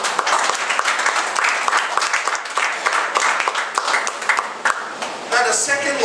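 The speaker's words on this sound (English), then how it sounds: "Clap your hands unto the Lord." Congregation clapping hands in church, rhythmic rounds of claps with distinct sharp hits, fairly close, with cheering voices rising near the end.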